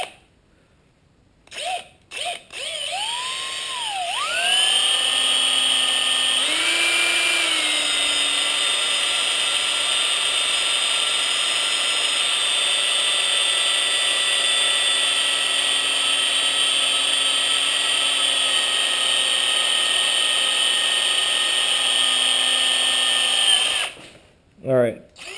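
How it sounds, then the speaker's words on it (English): A power drill bores a pilot hole in aluminum for an XR650R oil sight tube fitting: a short start and stop, then a long, loud, steady high whine with a sharp tonal pitch that runs for about twenty seconds before winding down. "I'm going to go ahead and drill my pilot hole here"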